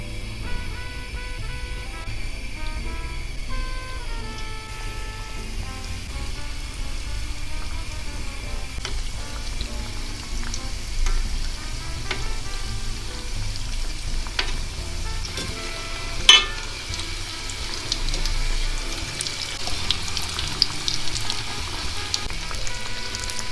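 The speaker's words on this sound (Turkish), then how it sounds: "Tavaya bolca sıvı yağ koydum ve tatlılarımızı kızartmaya başlıyorum." Karakuş dessert dough sizzles steadily in plenty of hot oil in a pan, a continuous crackling hiss with occasional sharper pops and a brief clatter partway through.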